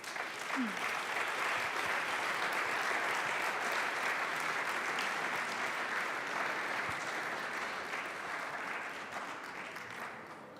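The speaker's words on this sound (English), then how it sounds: "Warm applause." A hall audience at a youth prize ceremony in Aachen applauds steadily, a dense, even clapping that holds for about ten seconds before easing slightly at the end.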